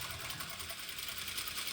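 A sewing machine stitches bias binding onto a garment edge, a fast even mechanical whir with a continuous rapid needle rhythm, close but fairly quiet, with no talking.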